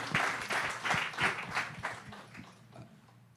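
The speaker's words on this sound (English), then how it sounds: "So let's give a round of applause." Applause from an audience at an event, a burst of rapid claps that is brief and fairly faint, tapering off within a few seconds.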